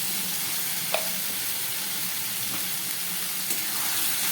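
Water from rinsing a sweets tin is poured into a hot pan of spiced rita and tangra fish curry along with cumin powder, giving a steady, close sizzle and hiss with a few faint clinks on top.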